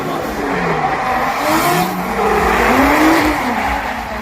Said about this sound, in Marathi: तो आवाज होता या कार ड्रिफ्टिंग शोचा टायरचा आवाज इंजिनचा कजर आणि पब्लिकचा जल्लोष